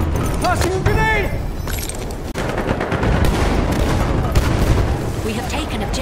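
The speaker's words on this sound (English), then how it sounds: "Tossing a grenade!" Grenade blast and gunfire in a military video game, with sustained loud fusillade-like rumble and crackle throughout, heavy low-end booms, and voices shouting over the din.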